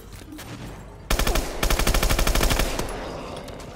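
Rapid automatic gunfire in Call of Duty: Advanced Warfare Exo Zombies, a loud sustained burst of evenly spaced shots over background game noise, tapering off at the end.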